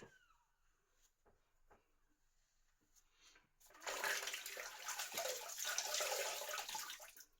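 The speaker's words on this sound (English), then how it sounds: "This brush doesn't smell at all, which is great. Okay, let's rinse." Running water from a tap rinsing a 60-year-old vintage shaving brush from a 1945-50 Gillette UK travel kit, quiet small handling sounds first, then a steady close gush of flowing water for the last few seconds.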